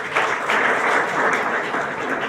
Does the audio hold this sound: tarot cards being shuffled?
no